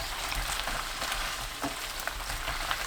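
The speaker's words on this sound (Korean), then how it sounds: "조청 2큰술 넣고 중약불로 5분에서 8분 볶습니다." Baby potatoes with grain syrup stir-fry over medium-low heat in a pan, giving a steady, close, dense sizzle with small scraping stir noises and no talk.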